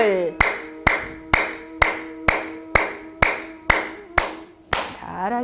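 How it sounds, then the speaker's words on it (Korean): A group of people clap in unison during a seated qi-gong exercise session, about ten sharp, evenly spaced claps roughly every half second, close and loud, ending in a brief spoken voice. "자, 박수 시작."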